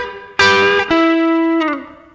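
Electric blues guitar plays a brief lick with slight string bends: a sharp picked attack, a second note that sustains and bends subtly, then a final bent note that dips and fades, slightly distorted and close.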